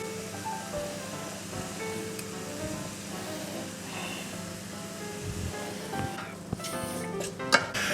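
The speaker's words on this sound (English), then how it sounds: "I'm going to cover it and leave it to boil" Tomato smoor relish boiling away in a covered pot on the stove, a steady bubbling hiss with faint clicks of a lid near the end.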